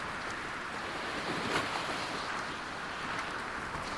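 Stormy open sea in the sailing game Sailwind, with steady broadband surf and wind roaring continuously around a sailboat, a slight surge near the middle, no voices.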